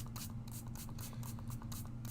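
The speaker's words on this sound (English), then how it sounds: "We're going to grab our tangerine orange, and then you're just going to spray." Tangerine orange aerosol paint sprays in a string of short, faint hissing bursts over a low steady hum.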